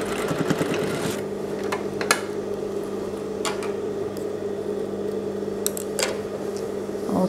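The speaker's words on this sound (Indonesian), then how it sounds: "So kita jahit. Sampai hujung, matikan jahitan." Sewing machine stitching around the neckline of a robe, running as a continuous steady mechanical whir with a constant hum, interrupted by a few brief clicks and fabric handling sounds.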